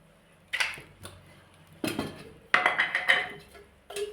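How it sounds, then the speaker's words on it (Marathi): A pan being set down on a stove before cooking prawns, with several metallic clanks and clinks of cookware at close range, spaced out over a few seconds in a quiet kitchen. "आता मी पॅन ठेवतोय"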